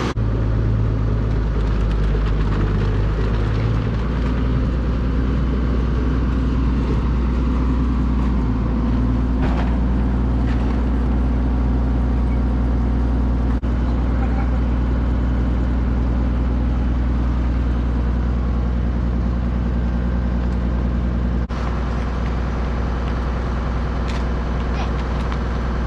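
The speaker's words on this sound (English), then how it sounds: "On this bagger, that runs hydraulically from the tractor." A Farmall B tractor runs steadily while powering a hydraulic ag bagger, a loud continuous low engine drone with occasional clanks, and people talking over it.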